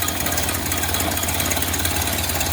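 A 1931 Ford Model A engine idles fairly low after new points, condenser and distributor plate wire were fitted, giving a steady, loud, even mechanical chug close by with no pauses and no talking.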